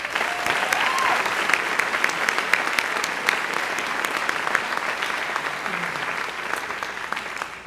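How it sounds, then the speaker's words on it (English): A school scholarship awards night audience applauds, a sustained, even clatter of many hands clapping at moderate volume. "Please join me in a round of applause acknowledging their hard work and dedication."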